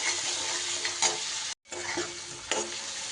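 Ground spice masala with a splash of water sautés in a pan, a continuous close sizzle broken by stirring scrapes and one brief silent gap midway.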